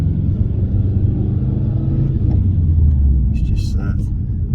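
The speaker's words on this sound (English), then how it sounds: "It's just that unforgettable burble and noise of these boxer lumps" A blobeye Subaru Impreza WRX's boxer engine gives a deep, steady rumble with a throbbing burble, close and loud, continuing throughout, with a brief higher-pitched noise near the end.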